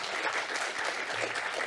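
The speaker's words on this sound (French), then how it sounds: "On les applaudit, évidemment." Seminar audience on sustainable agriculture applauding, a dense, steady burst of clapping heard up close.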